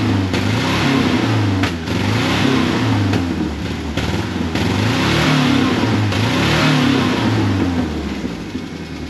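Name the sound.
1983 turbo coupe engine, car driving in reverse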